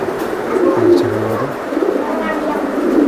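A Pakistani teddy racer pigeon coos nearby in low, rolling murmurs as someone talks over the birds.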